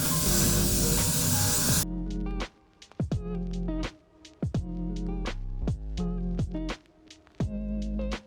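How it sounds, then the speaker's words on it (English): Hairspray sprays onto hair in one short, close, continuous hiss lasting about two seconds. Clicking, rhythmic music with a steady beat follows. "I'm gonna use some hairspray."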